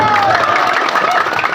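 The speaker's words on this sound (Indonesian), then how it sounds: "tepuk tangan" Audience applause and cheering at a wayang golek puppet performance gathering, a dense, steady wash of clapping and crowd noise lasting throughout, with a voice faintly audible underneath.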